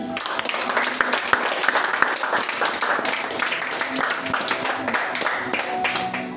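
A church congregation claps in praise of the Lord, steady dense applause with sharper individual claps standing out and voices calling out beneath it.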